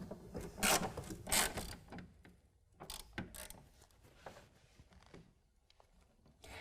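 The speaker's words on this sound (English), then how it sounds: "Then we can go ahead and tighten down those Torx bolts. And I recommend using a ratchet for this," A hand ratchet tightens Torx bolts on the deck rail of a BAKFlip F1 tonneau cover on a 2016 Toyota Tacoma. Close, quick clicking comes in several short bursts with pauses between them.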